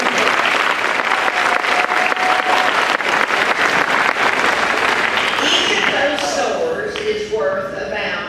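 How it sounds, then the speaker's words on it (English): A school audience breaks into sustained applause, a dense roar of many hands with cheering voices, loud and steady before thinning out as voices take over near the end. "give yourself a round of applause"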